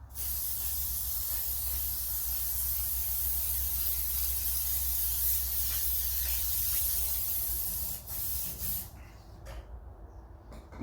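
A long, steady hiss of liquid from a spray bottle onto cobwebbed items in a shed, close and fairly loud, then sputtering into shorter bursts before stopping.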